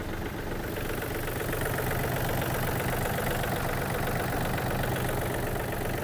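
A Yanmar F-210 tractor engine, slightly warmed up, idles steadily at close range, a continuous low rumble with a fast knocking rhythm that never changes in level.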